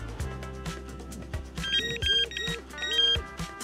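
A Neco F Pro fishing bite alarm gives repeated short warbling beeps over a low, steady vibrating buzz from its vibration alarm, close and fairly loud.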